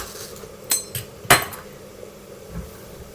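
A knife chopping through vegetables on a cutting board, a few sharp separate knocks with gaps between them, close and clear over quiet room tone.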